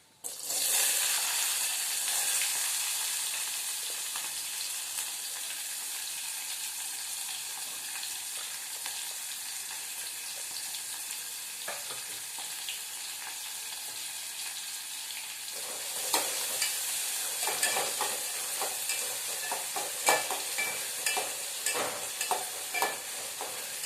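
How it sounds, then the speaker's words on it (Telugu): Chopped onions and green chilies with cumin seeds sizzle steadily in a hot oiled pan, a continuous bright frying hiss that grows busier and crackly toward the end as the mix is stirred. "ఉల్లిపాయలు, పచ్చిమిరపకాయలు వేస్తున్నా."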